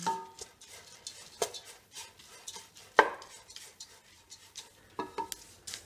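Washed broken wheat roasting in a pan, with sharp metallic scrapes and clinks of a spoon stirring the grains at an irregular pace, faint and close, with a soft sizzle underneath.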